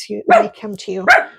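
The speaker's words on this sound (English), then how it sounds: "Sorry about my dog." A pet dog barks several times in quick succession indoors, loud and close, with a person talking over the barks.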